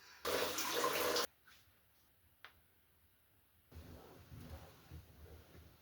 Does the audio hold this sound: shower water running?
yes